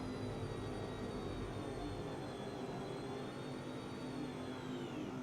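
A bush plane takes off in X-Plane 11 in the Alaskan bush, flying from Arctic Village Airport. Its engine gives a steady, loud, unbroken drone with a whining tone above it. There is no talking.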